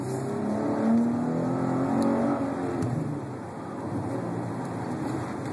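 A 2011 Dodge Challenger V6 pulls away and accelerates on a rainy road, its engine note rising and swelling from inside the car before easing off, steady and fairly loud throughout.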